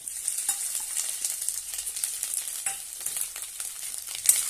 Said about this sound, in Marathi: आणि छानपैकी तेलामध्ये परतून घेऊया